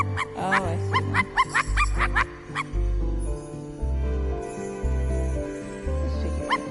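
A dog in the video game I Am Dead gives a quick burst of barks and yips near the start, over soft, steady in-game music with deep sustained tones.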